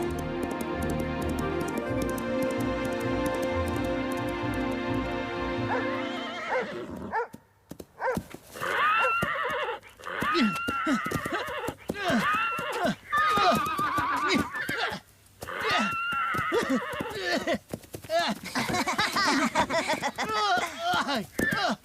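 An animated horse lets out a long, loud whinny, then hooves clatter in quick irregular clip-clop runs with brief pauses, under other sounds and voices.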